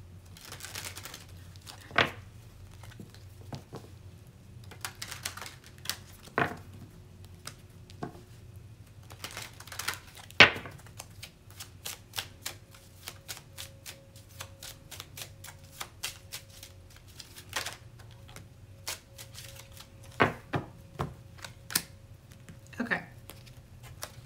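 A small deck of oracle cards is shuffled in scattered crisp snaps and riffles, quiet and close, with pauses between bursts.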